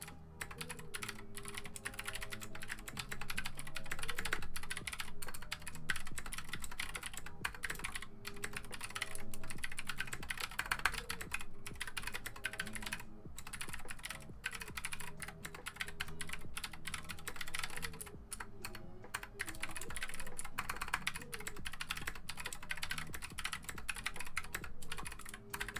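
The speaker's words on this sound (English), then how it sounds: "so that's my typing test right now" Rapid, steady typing on an Anne Pro 2 mechanical keyboard, with dense clicking keystrokes running continuously at close range and no talking.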